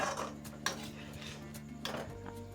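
Wheat flour noodles are tossed in a pan with a utensil, giving a few soft scrapes and light metallic clinks against the pan over a quiet kitchen background.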